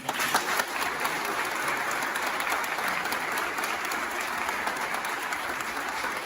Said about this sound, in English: The applause was even, louder than this.